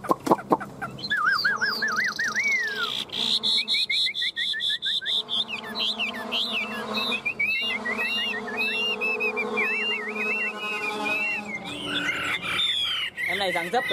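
A tame hand-held hwamei songbird sings a long, loud, varied run of rapid warbling whistles and trills close to the mic, continuous throughout with barely a pause.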